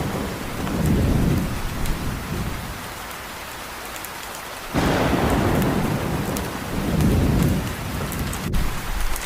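Heavy rain falls steadily throughout a thunderstorm, with deep rolling rumbles of thunder swelling near the start and again later, and a sharp burst of intensified downpour midway; no voices.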